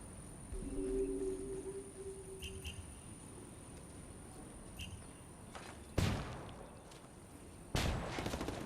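Flashbangs and gunfire during a competitive PS4 Ghost War League semifinal match, heard as two sharp, loud bangs a couple of seconds apart near the end, following a quieter stretch of faint crackling shots over a steady high-pitched hum.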